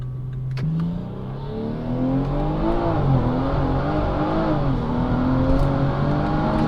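A tuned stance car accelerating hard along a straight road, its engine note climbing steadily through the gears with a short dip at each shift, loud and close from inside the cabin and with no talking.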